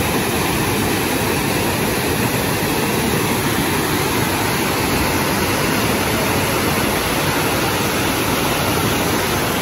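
Water pours over a waterfall in Jaffna with a loud, constant, dense rush that fills the whole stretch, unbroken and without voices.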